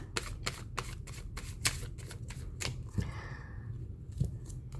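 Tarot cards are shuffled in a quick, crisp series of riffling snaps, close up, with a short sliding pause near the end.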